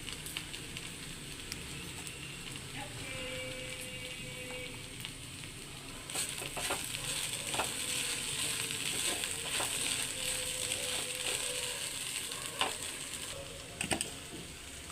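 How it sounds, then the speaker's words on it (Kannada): Okra (bendekaayi) fries in a pan for a simple palya, giving a steady, close crackling sizzle. A stirring scrape runs through it, and a few sharper pops come near the end. "ಸ್ವಲ್ಪ ಚೆನ್ನಾಗಿ ಫ್ರೈ ಮಾಡಿಕೊಂಡು ನಂತರ ಉಪ್ಪನ್ನು ಸೇರಿಸಿಕೊಳ್ಳಬೇಕು."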